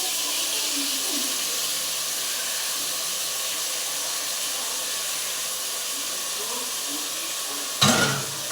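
Chicken meat and onions fry in a pan with a steady, even hiss and sizzle, close and constant, with a brief louder clatter near the end.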